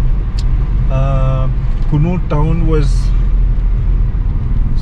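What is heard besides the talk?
road traffic in a crowded town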